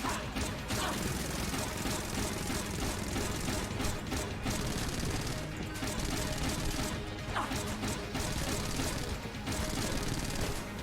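Dense, continuous gunfire from the video game Enter the Gungeon, a steady loud barrage of rapid shots and impacts layered with game music and effects, with no pauses throughout.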